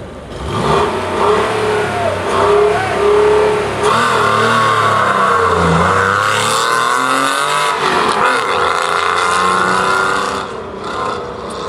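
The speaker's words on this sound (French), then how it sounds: "Avec la Porsche numéro 123, nous retrouvons Patrick Pierret" Porsche race car accelerating at a historic hill climb event, its engine note loud and close, rising and shifting through gears for several seconds before easing slightly near the end.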